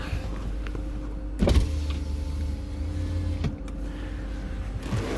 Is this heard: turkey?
no